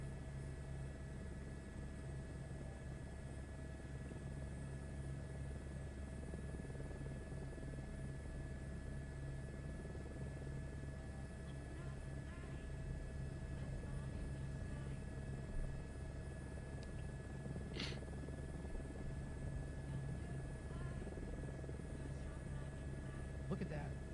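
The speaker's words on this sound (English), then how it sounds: "This helicopter is so much easier to control and fly." A helicopter in a flight simulator game drones steadily over a lake, its low rotor and engine hum holding constant throughout, with a faint voice murmuring over it.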